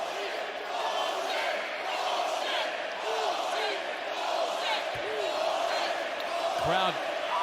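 A college basketball arena crowd roars and boos steadily after a foul in a Florida at Georgia game, a loud sustained wash of voices with a few sharp sneaker squeaks.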